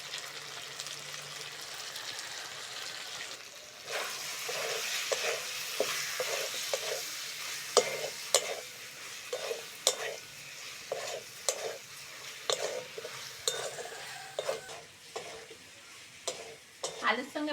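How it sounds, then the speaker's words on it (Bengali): Potatoes and spices sizzle and fry in a pan for a Bengali prawn curry, with a steady hiss broken by repeated sharp scrapes and clinks of a spatula stirring against the pan. "আলুর সঙ্গে মশলাগুলো ভালো করে কষে নিয়েছি"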